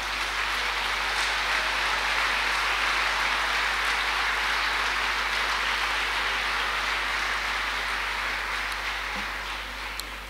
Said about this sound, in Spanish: Dele un aplauso a esa frase